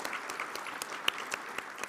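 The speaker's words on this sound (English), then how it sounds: "so a round of applause for them." A room of people claps for Comcast, the breakfast sponsor at a civic community event, in a steady moderate wash of hand claps with a few sharper close claps standing out.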